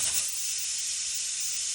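Bulalo beef broth boils in a covered pot, giving a steady, close hiss of bubbling and steam that holds even throughout, with no talking.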